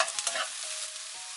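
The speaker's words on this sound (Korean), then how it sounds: "볶아줍니다." Onions and mushrooms stir-fry for tomato pasta in a brief burst of bright sizzling, with a couple of quick stirring scrapes at the start before the hiss settles.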